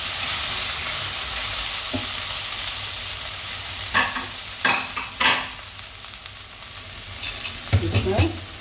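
Okra (ladies finger) is stirred and fried in a pan with onion and tomato for vendakkai masala: a soft steady sizzle runs under several distinct scrapes and clatters of a spoon against the pan.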